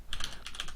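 Quick burst of typing on a computer keyboard, several close, crisp keystrokes in a rapid run with no talking.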